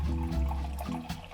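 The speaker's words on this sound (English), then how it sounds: "Now we need 250 grams of warm water." Warm water heated to 110 degrees in an electric kettle pours steadily into a bowl of bread dough ingredients, a close, continuous gushing splash lasting the whole moment with no talking.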